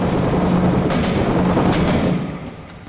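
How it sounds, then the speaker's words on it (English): Heavy gunfire rattles in rapid, dense bursts, loud and close, with a few distinct sharper shots standing out before it thins toward the end. "So much shooting. So much noise."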